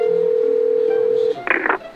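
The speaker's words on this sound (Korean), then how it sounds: "자, 이제 두 번째 동기한테 전화해봅니다." A telephone line tone sounds while calling a colleague from the office. It is a steady, clear tone held for about a second and a half, then it cuts off into a brief burst of other sound.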